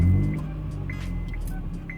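Idling Honda Civic fitted with a straight-through exhaust pipe that is blowing slightly, a steady low, throaty rumble heard close up with faint ticking above it.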